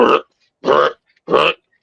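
Three short, throaty burps in a row, evenly spaced with brief silences between them, close and loud.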